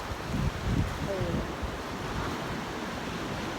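Winter sea surf washing onto a beach, a steady loud rush of waves with a swell near the start, mixed with gusty wind buffeting the microphone.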